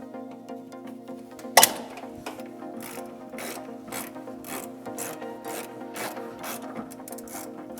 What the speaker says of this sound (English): this is a ratcheting flare wrench